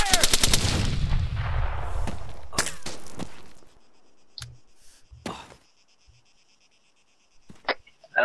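Gunfire from the video game ARMA 3 opens with a loud rapid burst of shots, followed by scattered single cracks and quieter pops over a faint insect-like background.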